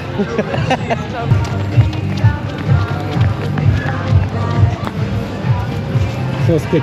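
A group of four people runs hurriedly into the queue area of Michigan's Adventure amusement park; steady, close running footsteps continue throughout amid crowd noise and voices.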